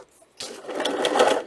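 A sewing machine sews fabric sleeves for a book protector, starting abruptly after a brief silence and running steadily and close for just over a second.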